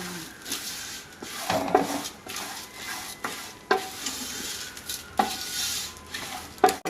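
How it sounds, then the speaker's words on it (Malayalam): Vermicelli frying in ghee in a hot pan, stirred with a utensil: a steady soft sizzle broken by repeated scraping and knocking strokes against the pan, close and moderately loud, no voices. "നിങ്ങളിതാ നമ്മുടെ സേമിയ കൂടി അങ്ങ് വറുക്കുക"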